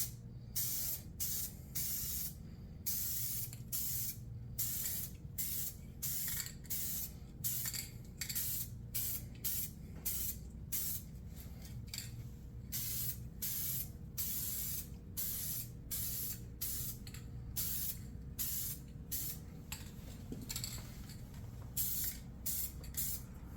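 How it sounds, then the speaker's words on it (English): Repeated short bursts of spray paint hiss in a steady rhythm, laying light coats onto a truck door panel from a first-generation S10, each pass close and crisp with brief pauses between. "So we'll go ahead and start spraying this, wait 5 minutes, put another coat on"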